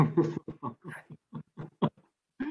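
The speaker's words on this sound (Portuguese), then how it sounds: "Deixa só meu cachorro se acalmar." A pet dog gives a quick series of short, close barks and grunting yelps, about a dozen bursts with brief pauses between them, and nobody speaks.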